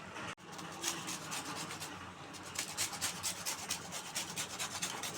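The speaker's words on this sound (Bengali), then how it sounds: "আমার লেবুর খোসাটা দেওয়া হয়ে গেছে ঘষে," Gondhoraj lemon peel rubbed against a grater over a pot of meat curry, a steady close scraping rasp in quick repeated strokes after one sharp tap at the start, with no talk.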